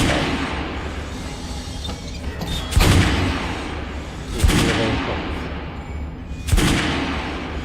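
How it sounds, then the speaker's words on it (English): Kalashnikov pre-war assault rifle shots in Metro Last Light, three heavy booming reports spaced a couple of seconds apart over a constant rumbling game ambience. "Kalashnikov, a classic pre-war assault rifle, despite being a very common PLB rarely used"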